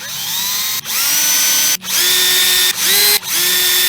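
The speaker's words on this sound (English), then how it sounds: "I have my drill here, I have my bit right here." An electric drill bores into an Encore guitar part, whining steadily in several bursts with brief pauses between them and a rising pitch as the motor spins up again, loud and close.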